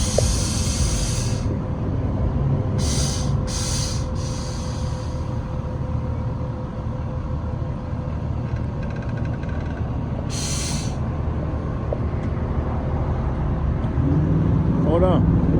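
A 1988 Monte Carlo SS with an LS engine swap and T-tops revs hard while warming its tires, a loud steady engine roar with bursts of hissing tire noise and a faint voice in the background.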